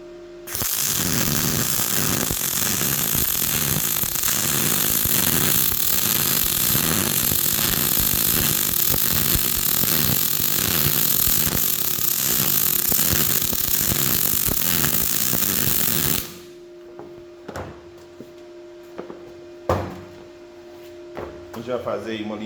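MIG welding with an argon-CO2 gas mixture, a loud continuous crackling buzz for about sixteen seconds, then abruptly stopping, followed by quieter clatter and a voice talking.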